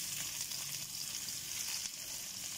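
White bitter gourd (ampalaya) sautés in a pan with a steady, soft sizzle, faint and close, with no talking.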